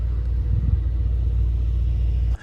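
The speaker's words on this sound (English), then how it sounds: "Let me demonstrate you the sound of this performance SUV." Deep, steady engine rumble from an idling 2021 Mercedes-AMG GLE 63 S performance SUV, low and continuous, with a brief dip at the very end.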